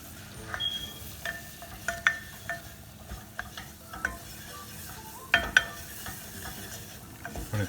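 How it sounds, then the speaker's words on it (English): A flour roux cooking over low heat in a pan for Mornay sauce, stirred with a utensil that scrapes and taps the metal at irregular moments above a soft, quiet sizzle. "So I'm going to stir this,"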